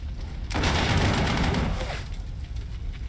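Rolling burst of gunfire from a Panzer 38 tank attack in the Panzer Corps 2 strategy game, a dense crackling volley swelling in then tapering off over a couple of seconds, loud and without talk.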